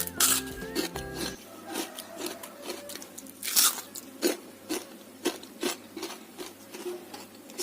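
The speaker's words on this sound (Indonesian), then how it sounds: "Ini aku akan cobain satu. Tuh kering banget renyah" Crispy Indonesian fried gorengan snacks are bitten and chewed up close, giving loud, dry crunches. The crunches come in an irregular rhythm of sharp bursts with quieter chewing between them, and no one speaks.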